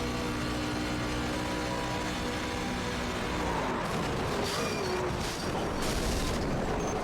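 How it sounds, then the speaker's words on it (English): A race truck slams into a SAFER barrier during an oval-track truck series race in Las Vegas, loud engine roar giving way to crunching impact noise and scattered bangs, all close and overwhelming. "You can hear the sounds of that car making impact with a safer barrier."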